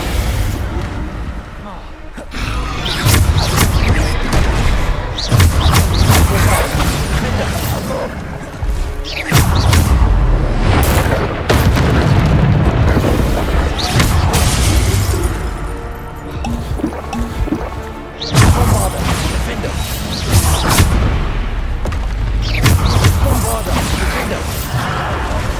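Bombarda explosion spells in Hogwarts Legacy go off repeatedly as loud booming blasts with crashing debris, set against dense game music and effects, with a voice heard among them.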